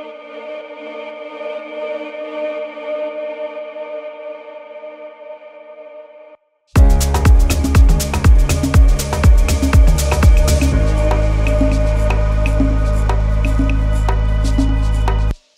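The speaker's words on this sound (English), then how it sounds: "First thing I've got is this vocal sweep, atmospheric sweep." Atmospheric vocal sweep in an organic house track, a washed, reverberant vocal texture for several seconds, then a brief gap before the full mix enters with heavy bass, percussion and sustained pads, loud and continuous.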